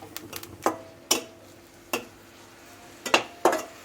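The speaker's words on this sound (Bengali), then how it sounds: "আমি এখন পেঁয়াজটা ভেজে নিচ্ছি" Onion frying in a pan: a low, faint sizzle runs underneath sharp, irregular clacks and scrapes of a utensil against the pan, heard up close, with no talking.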